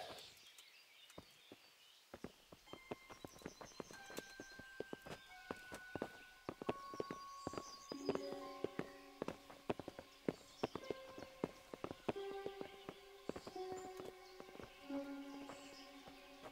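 Horses clip-clopping on hard ground in the medieval video game Kingdom Come: Deliverance, a steady run of hoof knocks over several animals, moderately near, mixed with bright tonal game music and ambience.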